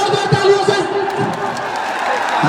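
Crowd at a protest rally on Bhopal's Jamboree ground clapping and cheering as a leader is introduced, a loud, dense wash of applause and voices under an amplified announcer's speech.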